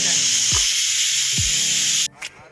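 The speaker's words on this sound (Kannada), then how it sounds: "ಅರಶಿನ ಸೇರಿಸ್ಕೊತಾ ಇದ್ದೀನಿ ಸೇರಿಸ್ಕೊಂಡು ಈ ಥರ ಲೈಟ್ ಫ್ರೈ ಮಾಡ್ಕೊಳ್ಳಿ" Turmeric light-frying in a pan gives a loud, steady sizzle that cuts off sharply near the end, with a couple of soft knocks beneath it.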